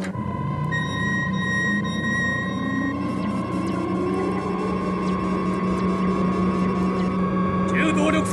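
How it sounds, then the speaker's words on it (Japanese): A spaceship's auxiliary engine starts up in an anime sound effect, a steady mechanical hum with a tone that rises in pitch partway through and keeps droning on, with voices speaking over it. "補助エンジン始動5秒前"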